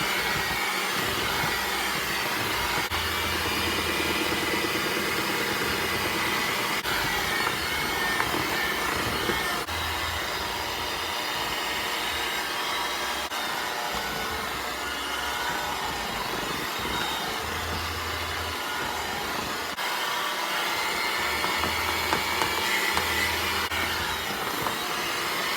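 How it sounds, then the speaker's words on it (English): An electric mixer runs on low, beating powdered sugar into frosting for a carrot cake. It gives a steady, even whirring drone with a faint pulsing low rumble, continuous throughout with no voices. "I turn my mixer down to low"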